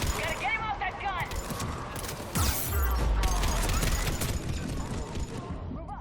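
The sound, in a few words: shuttle gun firing in the video game Mass Effect 3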